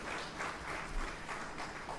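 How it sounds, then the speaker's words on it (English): Crowd applause at a hospital awards ceremony, a dense wash of many hands clapping at once, moderately loud and sustained throughout. "please give a bigger round of applause for this"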